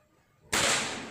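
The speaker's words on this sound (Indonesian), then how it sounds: "kita tes ulang kembali ini saya menggunakan peluru Hercules" A single air rifle shot fired with Hercules pellets: one sudden sharp crack after quiet, followed by a short decaying hiss of noise.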